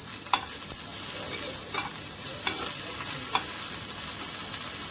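Coriander stalks and curry leaves sizzle steadily in a hot pan of oil with cumin, with several sharp clinks of stirring scattered through the continuous frying hiss, close and alone.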